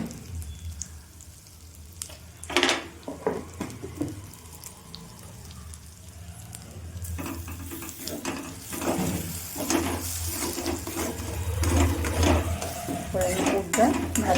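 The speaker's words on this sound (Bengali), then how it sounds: "পুরটা ভালো করে নেড়ে চেড়ে তৈরি করে নেব, শক্ত করে একদম।" Pea filling for kachori stirred in a pan: scraping spoon strokes, knocks on metal and a soft sizzle, irregular and close, building toward the end, with occasional brief talk in the background.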